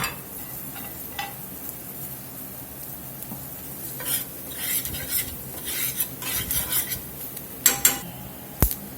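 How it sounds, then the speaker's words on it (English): Flour cooks in sausage grease in a pan for biscuit gravy while a utensil stirs and scrapes it, giving a soft sizzle under repeated scraping strokes and a few sharp metallic clinks near the end. "Let that flour cook there a couple of minutes."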